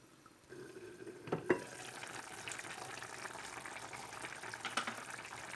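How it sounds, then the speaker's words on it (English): A lidded pot of purslane greens (semizotu yemeği) simmering on low heat gives a soft, steady bubbling hiss, with a couple of brief clinks near the start, close and quiet with no talk. "We just turn the heat down, put the lid on, and leave it simmer away for 10-15 minutes."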